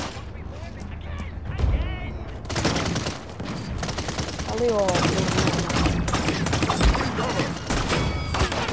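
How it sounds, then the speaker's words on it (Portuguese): Rapid bursts of video game gunfire, repeated shots and automatic fire, stay loud and close throughout, mixed with players shouting and talking over the action. "Do nada, levei um tiro que até nem doeu"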